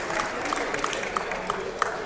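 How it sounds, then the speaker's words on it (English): An audience at a high school basketball game claps, soft steady applause with a few distinct claps standing out, heard at a moderate distance. "Big round of applause from the audience"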